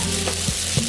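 Chinese chive pockets frying under a lid in a pan, a steady close sizzle with a couple of soft knocks and a low hum underneath.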